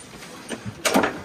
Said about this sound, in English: Look at these drawers.